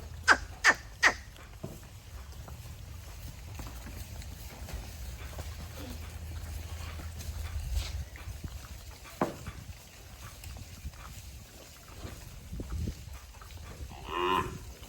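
Cows on a farm give several low, drawn-out moos at a moderate distance, with scattered clatter and faint bird calls in the background.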